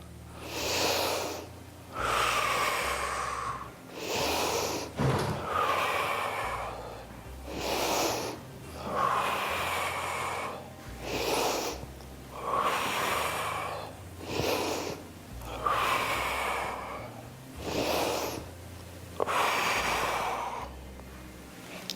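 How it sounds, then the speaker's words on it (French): Strength-training exercise breathing without machines: about eight rhythmic cycles of loud, close, breathy inhales and forceful exhales, evenly spaced with brief pauses between them. "On inspire sur la descente et on souffle sur la montée."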